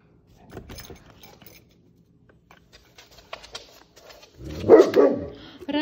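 A six-month-old Great Pyrenees dog barks a few times in quick bursts, fairly close, with some faint jangling and shuffling before it.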